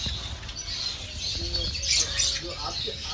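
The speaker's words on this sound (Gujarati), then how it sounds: "આજે જોઈ શકો છો લવ બર્ડ" Colourful lovebirds at Kankaria zoo in Ahmedabad chirp in short, high bursts, with a few brighter calls clustered near the end, over background voices and ambient noise.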